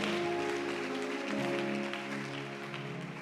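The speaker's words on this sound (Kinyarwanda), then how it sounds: "Let's put our hands together for our God." A church congregation breaks into sustained, full applause that gradually thins slightly, with steady sustained musical tones running underneath.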